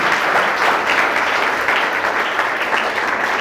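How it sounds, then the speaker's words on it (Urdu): Loud, sustained applause from a church congregation praising Jesus fills the space, dense clapping that keeps an even intensity throughout without pause. "یسوع کے جلال کے لیے زوردار تالیاں بجائیں"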